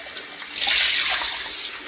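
Cold tap water running and splashing over boiled eggs in a kitchen sink, a steady broad hiss that swells after a brief start and holds close and loud before easing off, with no voices.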